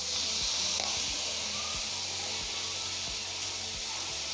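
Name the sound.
soy sauce added to chicken vegetable macaroni frying in pan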